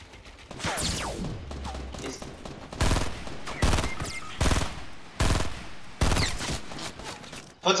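Rapid bursts of automatic gunfire in a military shooter video game, loud and close, firing in several separate volleys with short pauses between them and occasional faint voices underneath.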